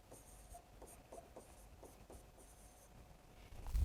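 A pen scratches steadily across a notebook page while organic chemistry notes are written out. The strokes are quiet, close and rhythmic, with short pauses between them, and no voice is heard.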